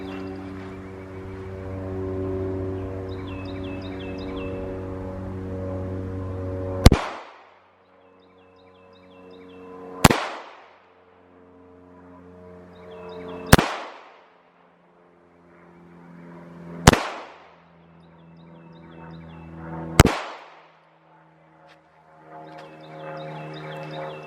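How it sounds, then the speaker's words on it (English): Five slow, evenly spaced gunshots are fired left-handed at a shooting range, each a sharp, loud crack with a short decaying tail. Gaps of about three seconds separate the shots, and a low steady hum runs underneath. "now he's gonna do his left-handed shots, 5 shots slow, and then 5 faster with his left hand"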